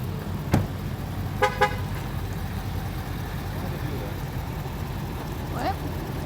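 A vehicle horn gives a short toot, then a quick burst of honks a second later, heard from inside a moving vehicle over steady road and engine rumble while hauling combines by road from North Dakota to Nebraska.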